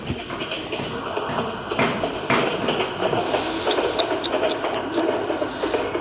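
A train in the video game Train Simulator Bangladesh gives a steady, loud rumble of engine and rail noise with faint rhythmic clicks throughout, and no one speaks.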